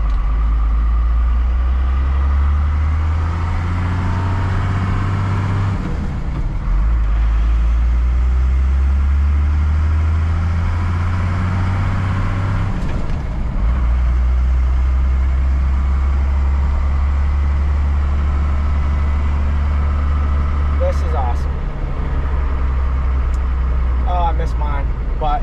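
A 1st Gen Cummins diesel truck drives in second gear, its deep engine drone steady and loud throughout with a few brief dips, while people talk inside the cab.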